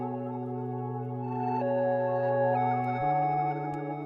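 A beat sample pitched up three semitones plays as sustained, layered tonal chords. The harmony shifts near the end, and the texture stays smooth and continuous at moderate volume with no voices.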